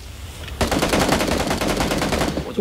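Sustained automatic gunfire in PUBG, from a suppressed AKM, starts abruptly after a moment of quiet and runs as a loud, rapid stream of shots to the end.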